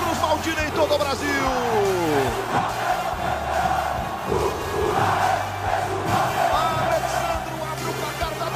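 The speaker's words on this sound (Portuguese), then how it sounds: "Faz a festa a torcida do Vasco" A stadium crowd of Vasco fans roars after a goal in the 2011 Copa do Brasil final against Coritiba, a loud, sustained mass of cheering and chanting that fills the whole clip.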